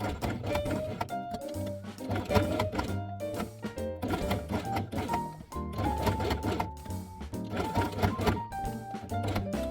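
A sewing machine stitches Velcro with white thread in steady rhythmic bursts of rapid mechanical chatter, pausing briefly between runs. A tonal melody plays in the background.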